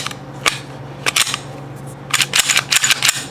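A budget 9mm handgun being reassembled after cleaning, its lubricated parts giving a few sharp, close metallic clicks and snaps, one near the start, one near the middle and a rapid cluster toward the end.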